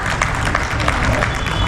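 Audience applause at a Holi special kavi sammelan, a steady dense wash of many hands clapping that holds at an even level throughout, with a faint murmur of crowd voices underneath.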